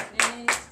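Two or three hand claps at a Sunday church service in Comè, Benin, spaced apart and fairly close, with a faint low hum underneath.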